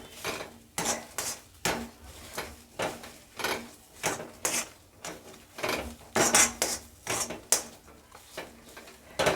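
Spoon clinks and scrapes against a bowl while mirchi vada filling with amchur is mixed and mashed, in a steady run of close, repeated clattering strokes with no talk.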